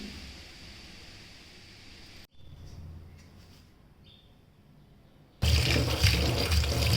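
Drumstick leaves are rinsed in water, with a steady running, splashing wash that drops out briefly midway and then returns much louder and closer for the final seconds, with no talking.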